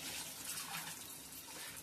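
Water is poured into a pressure cooker for Varalakshmi Vratam prasadam, a steady broadband rush of running liquid lasting about two seconds at moderate level with no talk over it.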